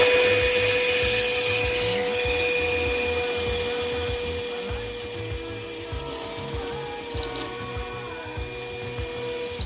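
A power drill whines steadily at high speed, its pitch and loudness gradually dropping as it bores a pocket hole through wood, with a click at the end.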